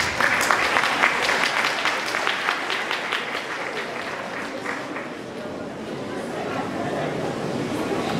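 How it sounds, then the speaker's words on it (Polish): A festival crowd applauds after a children's prize announcement, a burst of many hands clapping that gradually thins and fades, with murmured voices underneath. "Brawa!"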